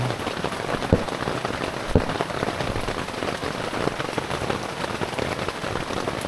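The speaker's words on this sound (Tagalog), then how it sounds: "Lakas ang ulan dito sa Camp Awol." Heavy rain pouring steadily at Camp Awol, a campsite in Real, Quezon, a dense continuous hiss of drops drumming on surfaces close by, with a couple of sharper impacts and no talking.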